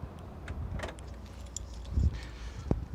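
MG3 car keys jingle and clink briefly in a hand, with a few soft knocks and a sharp metallic tap near the end, close up.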